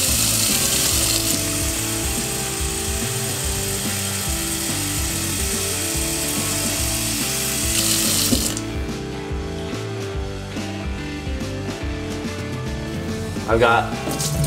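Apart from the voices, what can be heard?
sink tap filling a glove with water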